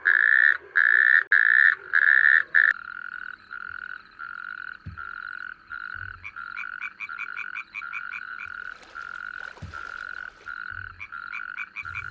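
Natterjack toads call at a shallow, sunny mating pool, a loud pulsing trill repeated in strong bursts at first, then a steadier chorus of overlapping rattling calls with a few soft thumps underneath.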